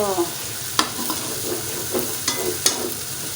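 Masala frying in ghee with tinda sabzi, a steady sizzle broken by several sharp scrapes of a spoon stirring against the pan, close and clear.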